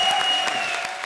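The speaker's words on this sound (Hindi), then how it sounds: "हो जाए एक बार जोरदार तालियां" A studio audience at a comedy show applauds loudly and continuously, a dense close burst of clapping over about a second.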